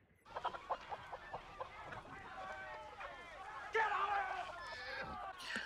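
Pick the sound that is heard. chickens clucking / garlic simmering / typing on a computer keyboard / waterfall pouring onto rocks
chickens clucking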